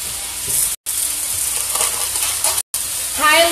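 Corn cooking in a hot skillet on a stovetop set to about 7, giving a steady close sizzle with two brief cutouts and a louder burst of crackle near the end.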